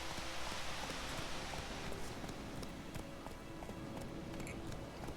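Rhythmic hoofbeats of a horse galloping in The Witcher 3, a steady fast clip-clop under ambient wind and rustle, with no talking.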